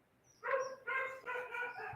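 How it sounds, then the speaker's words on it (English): A dog barks three or four times in quick succession in the Philippines, fairly close and clear, with short pauses between the barks. "Sorry now for the neighbour's dog now barking there."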